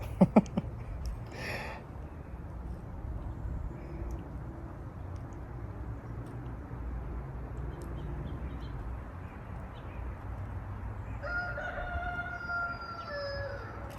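A rooster crows at a distance over steady outdoor background noise on the Appalachian Trail, with a brief burst of other calls near the start.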